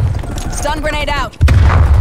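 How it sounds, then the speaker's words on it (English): A stun grenade goes off in Call of Duty Cold War on Nuketown, a sudden heavy boom cutting in after a short lull, following a brief spoken game announcement. "Stun grenade out."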